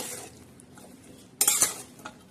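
A spoon stirs pumpkin with moong dal in a pan: faint scraping, then a sharp metallic scrape and clink about midway, followed by a softer tap.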